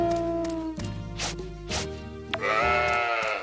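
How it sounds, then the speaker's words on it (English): Sheep bleat from the farming game Story of Seasons: Pioneers of Olive Town, a few loud, wavering nasal calls standing alone with no talk. "That's a nice normal sheep sound."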